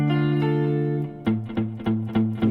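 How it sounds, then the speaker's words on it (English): Electric guitar through an amp with only reverb on, ringing sustained chords that give way to a run of sharply picked, repeated chord stabs, close and alone with no talking. "the only effect that I've got on it now is reverb"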